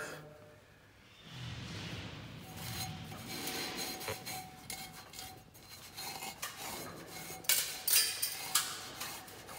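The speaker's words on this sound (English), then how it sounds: "So, we need to clean the pipe." Sand and grime being scraped out of a sink drain pipe for a membrane sink trap, a steady close rasping rub that thickens after a quiet start, with a few sharper knocks near the end.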